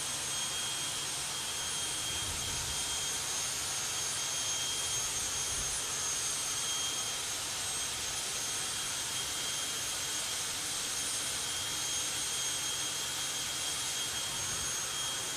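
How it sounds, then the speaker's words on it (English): A jet-powered funny car engine roars at a VW drag race, a steady broadband turbine howl with a high whine on top, constant and distant but filling the whole stretch without talk. "We've got the Jet Funny Car."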